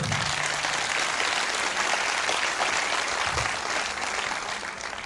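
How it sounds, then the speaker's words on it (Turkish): Steady, dense applause from a concert audience at the Datça Hızırşah event, loud and close, continuing throughout with no talk over it. "Ona bir alkış istiyorum."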